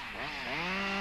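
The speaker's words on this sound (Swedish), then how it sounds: "Såga med skjutande kedja." Motor chainsaw limbing branches off a felled tree trunk, cutting with a pushing chain: a loud, close engine whine that rises in pitch as the saw revs over one continuous second.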